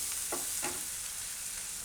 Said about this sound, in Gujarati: થોડીક વાર આને આપણે પાકવા દઈશું. વચ્ચે વચ્ચે હલાવતા રહે.